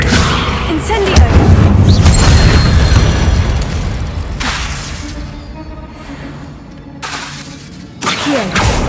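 Fire spell cast in a Harry Potter video game, heard as a loud whooshing burst with booming, crackling impact near an altar with bones, then fading rumble and a second swell near the end.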